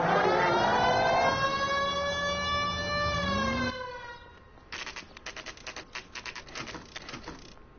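A police car siren from the L.A. Noire video game wails loudly and steadily with a rising and falling pitch, then cuts off and gives way to a rapid, rhythmic clatter like typewriter keys.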